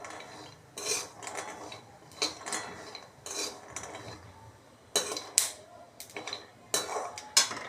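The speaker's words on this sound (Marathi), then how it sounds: "थोडं तूप टाकून आपण बदाम भाजून घेत आहोत." Almonds roasting in ghee in a pan over low heat, stirred with a utensil that gives soft scraping and intermittent metallic clinks against the pan, quiet and close with no talk.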